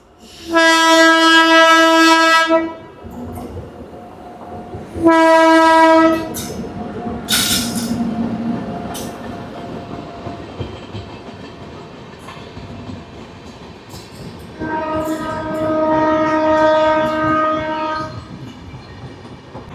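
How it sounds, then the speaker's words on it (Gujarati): Train at a railway station sounding three long, loud horn blasts, with a deep rumble and rolling wheel noise between and after them. "જો મિત્રો રેલવે સ્ટેશન ઉપર છે, એક ટ્રેન આવી રહી છે"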